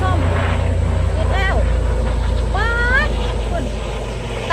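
An airplane passes overhead as a loud, steady low roar that fills the whole clip, while someone talks over it.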